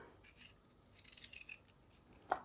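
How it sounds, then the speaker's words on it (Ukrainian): Knife slicing through apples into quarters for a pickled pepper preserve, soft scraping cuts in a brief cluster with a sharper snap near the end, close and faint. "І тепер ріжу на четвертинки"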